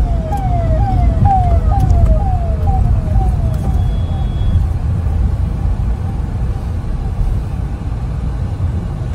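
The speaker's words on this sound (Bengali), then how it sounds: "অ্যাম্বুলেন্স।" An ambulance siren wails in repeating rising sweeps near a road by a railway crossing on the way to an airport, loud at first and then fading under constant heavy traffic rumble.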